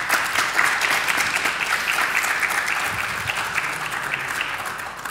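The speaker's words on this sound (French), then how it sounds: "je pense qu'on peut les remercier pour ça en les applaudissant." An audience applauds guests at an event with dense, steady clapping from many hands, loud and continuous for the whole stretch before tapering slightly at the end.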